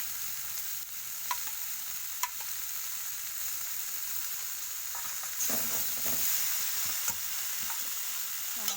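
Spice paste for data chorchori, a drumstick-stem dish, fries and is stirred in a pan with a steady close sizzle, punctuated by scraping stirs and occasional clinks that grow louder toward the end.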